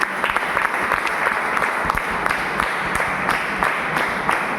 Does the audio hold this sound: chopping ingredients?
no